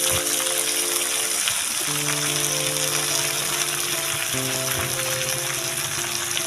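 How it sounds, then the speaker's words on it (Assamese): Curry leaves and fresh herbs, added after ginger, sizzle steadily in hot oil in a pan, a loud continuous crackling hiss with a low steady hum beneath it and no talking. "আদা নহৰুখিনি দিয়াৰ পিছত এতিয়া মই ইয়াত দি দিম মচন্দৰী পাত।"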